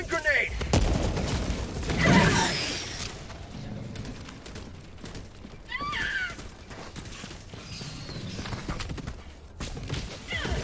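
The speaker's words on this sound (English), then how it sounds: "Throwing grenade." A grenade is thrown and explodes in a shooter video game: a loud burst rises out of scattered gunfire and mechanical clatter, followed by further rumbling blasts, with a voice talking over the action.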